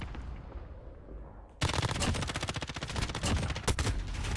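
Automatic gunfire in Call of Duty Modern Warfare, a Honey Badger rifle, erupts suddenly after a quiet stretch, a loud, close, rapid stream of shots continuing for several seconds.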